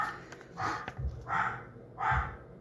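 A miniature pinscher barks three times in a row, sharp yappy barks spaced about a second apart, fairly close by.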